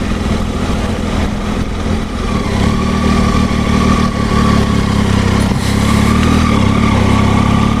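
A 2019 Triumph Tiger 800 XR three-cylinder motorcycle cruising in fourth gear around 1500 rpm, its engine giving a steady, loud, close-up drone with a low throbbing hum and wind noise, no talking.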